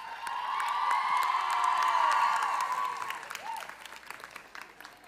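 Audience applauding Faculty of Health Sciences 2022 graduates at a university graduation ceremony, a dense steady clapping with some cheering and whoops that swells then thins out toward the end.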